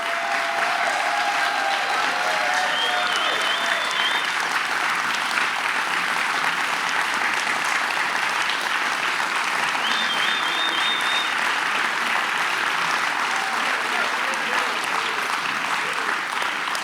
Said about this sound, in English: big round of applause for Chairman Chris Tudor.